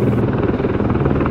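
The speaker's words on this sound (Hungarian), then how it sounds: "de a helikopterem épp közelít egy kis sziget felé" A helicopter in the Planet Zoo video game approaches a small island south of New Zealand, its steady, loud rotor thrum and engine drone continuous and close throughout.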